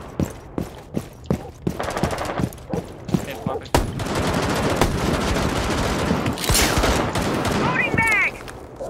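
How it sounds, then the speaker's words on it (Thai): Rapid bursts of machine gun fire in Rainbow Six Siege, sharp repeated shots in quick sequence followed by a denser sustained volley, with voices talking faintly underneath. "เสียงปืนกล"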